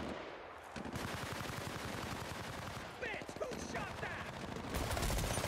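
Sustained automatic gunfire in the video game Battlefield: Bad Company, rapid bursts rattling almost continuously for several seconds with a brief lull before the shooting resumes.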